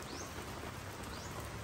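Rain falls steadily outdoors, a soft constant patter and hiss of drops, with faint bird chirps heard briefly in the background and no speech.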